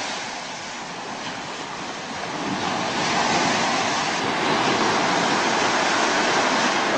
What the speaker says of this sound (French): Une petite plage où il y a des vaguelettes.